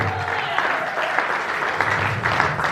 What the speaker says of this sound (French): Can you clap for the King of heaven?